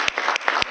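A school board meeting audience applauds standing teacher cadets in a short burst of steady clapping with a few loud individual claps.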